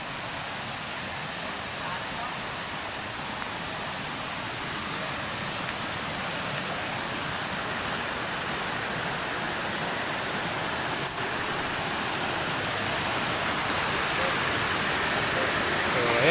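A waterfall at a high lookout pours down toward the pool below, giving a loud, steady broadband roar that holds unbroken and slowly swells slightly louder throughout.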